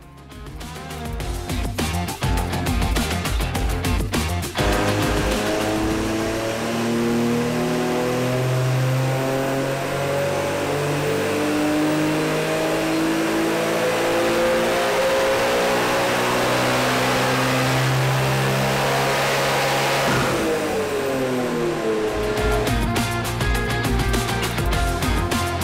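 A Ski-doo 900 Ace Turbo-R snowmobile engine runs on a dyno at baseline, revving up in a long sustained pull with rising harmonics, holding near full throttle, then dropping off sharply near the end.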